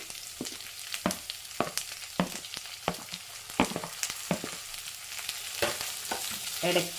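Chopped onion and okra fry in a pan, a constant sizzle punctuated by repeated sharp scrapes and knocks of stirring, close and fairly loud.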